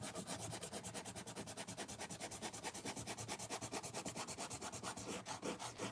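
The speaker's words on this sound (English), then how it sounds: "Now I will just do a little bit of rubbing out of those lines." An eraser rubs out drawn lines on a stamped card in rapid, steady back-and-forth strokes, a continuous papery scrubbing that runs close and even for several seconds.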